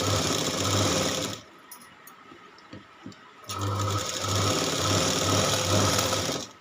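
Sewing machine stitching the back neck of a blouse, close rapid rhythmic chatter in two runs separated by a short pause filled with faint handling clicks.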